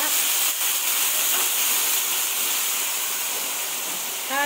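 Coconut milk poured into a hot pan of garlic, onion and ginger for ginataang galunggong, making a loud, continuous sizzling hiss that stays steady throughout.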